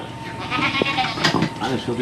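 Goats bleat a few times close by, their wavering cries overlapping with people talking in the background.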